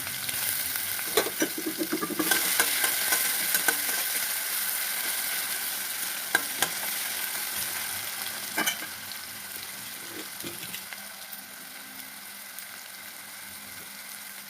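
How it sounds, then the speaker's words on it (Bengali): Crushed garlic and ginger frying with cinnamon, cloves and other whole spices, a loud continuous sizzle up close with scattered stirring clicks and scrapes throughout. "এখানে আমি রসুন আদা থেতো দিয়ে দেবো।"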